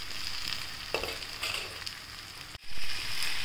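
Sprouted green gram curry being stir-fried in a pan after simmering covered, a close soft sizzle with a few spatula scrapes, a brief break, then a fuller frying hiss.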